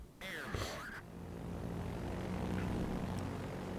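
Aircraft engines drone and plane-destruction effects in World of Warships as anti-air defences shoot down a swarm of planes, with a burst of sweeping sounds early on, then a steady rumbling engine hum that lingers at moderate volume.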